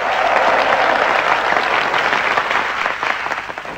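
A studio audience at a Vietnamese TV family show applauds in a dense, steady round of clapping that carries through the whole stretch and thins slightly at the very end.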